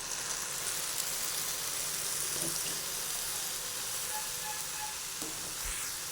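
Banana stem stir-fried in spiced masala, a continuous close sizzle with faint scraping and occasional clinks, steady and even throughout with no talk.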